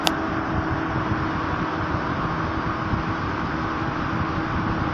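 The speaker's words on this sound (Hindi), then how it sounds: "आपको जो हवा का शोर है वो भी सुनाई दे रहा होगा।" Two electric fans running at full speed on a 400-watt solar power system, giving a steady, loud, continuous whoosh of rushing air with no pauses or talk.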